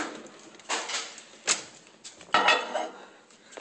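A microwave door is handled in a home kitchen, with several sharp clacks and thuds as it opens and shuts, spaced a second or so apart and heard fairly close.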